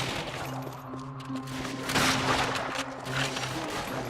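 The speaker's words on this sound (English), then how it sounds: "Machine gun on the right!" Sustained machine gun fire in the World War II shooter Call of Duty: Finest Hour, dense rapid bursts continuing over steady game music with a few heavier surges.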